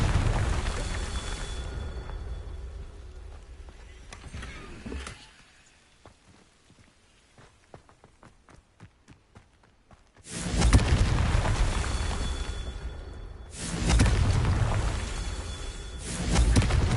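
A Confringo blasting spell in a Harry Potter video game, loud roaring explosive bursts with a quieter crackling gap in between, then two more heavy blasts, no talk.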